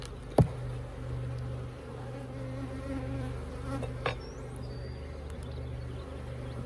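Honeybees hum in a steady, close drone while two Layens hive colonies are combined, with a single sharp knock near the start and another faint tap later.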